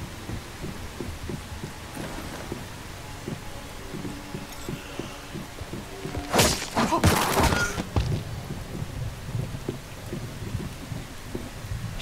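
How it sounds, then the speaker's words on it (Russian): Steady rain hisses through a thunderstorm in the video game Once Human, with a loud rumbling thunder burst rising midway and then fading back into the continuous downpour. "О, погода изменилась. Сейчас начнется гроза."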